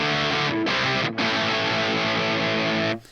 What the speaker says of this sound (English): it's very, very driven, like we're slipping towards something kind of fuzzy, something kind of distortion-y